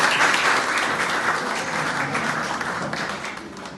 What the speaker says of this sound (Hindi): मैं खुश तब होंगी जब आपकी जोरदार बजेगी ताली।